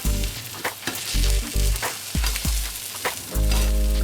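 Courgette frying in a pan: a close crackling sizzle interrupted by repeated low thuds and scrapes as it is moved and turned, then the hiss swells loudly at the end, with no voices.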